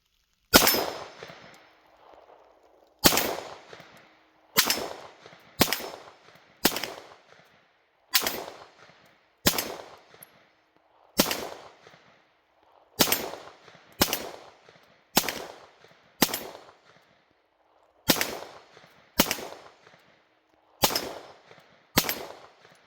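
Fourteen sharp, loud gunshots from a Springfield XD Mod 2 handgun, fired singly at an uneven pace with brief ringing decay after each report and quiet gaps between.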